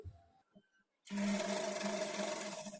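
Faint handling noises, then a brief silence, give way to a sewing machine stitching a kurti side seam up to the slit, running as a loud, steady close whir for the rest of the stretch.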